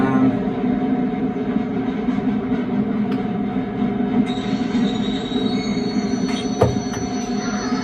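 A train slows on its rails with steady rumbling wheel noise, then high, piercing brake squeals rise and hold from midway, with sharp metallic screeches near the end, loud and close.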